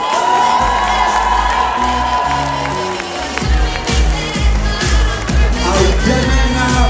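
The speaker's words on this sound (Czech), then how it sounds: "Takže ještě jednou potlesk pro Blanku a Ester." Audience at a Czech school graduation ball applauding and cheering loudly, with dense clapping, whoops and shouts over booming music throughout.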